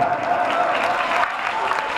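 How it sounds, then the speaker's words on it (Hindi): A crowd claps steadily and energetically throughout at an outdoor Aam Aadmi Party political rally held in the rain, a dense wash of applause at moderate volume. "जोरदार तालियों से स्वागत है"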